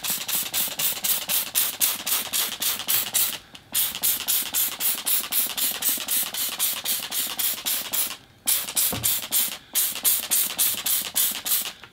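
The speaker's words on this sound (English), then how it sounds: "I'll spray the rest of the tree just as a preventative." Soap and water sprayed from a hand pump sprayer onto a tropical bonsai tree, rapid repeated hissing squirts in quick even bursts, broken by two short pauses, close and clear.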